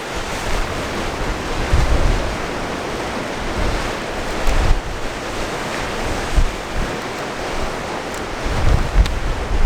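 Steady wind roars across the microphone by the sea in North Cornwall, with surf washing underneath and occasional stronger gusts buffeting the mic.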